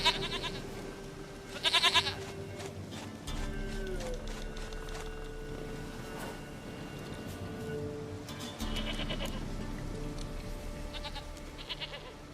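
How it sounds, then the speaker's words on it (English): A goat bleats in The Witcher 3 video game, a few wavering cries heard near and clear above a steady outdoor ambience. "Goat of mine, dearest,"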